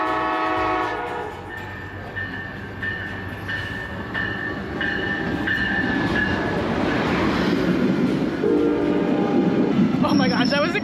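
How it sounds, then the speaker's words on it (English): An Amtrak train rumbles in and passes close by, wheels clattering steadily while a horn sounds in sustained tones, growing louder toward the end. "The train should be here any minute."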